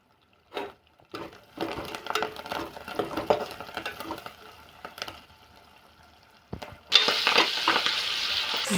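Tomato and curry leaves cooking in a tempering in a pan, soft intermittent stirring and bubbling that is quiet at first, then a louder burst of steady sizzle near the end.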